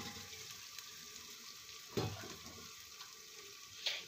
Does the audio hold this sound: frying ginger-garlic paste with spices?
yes